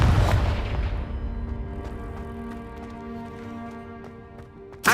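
A Confringo spell in Hogwarts Legacy goes off with a loud booming blast at the start that decays into a ringing, crackling tail. A second sharp hit lands right at the end.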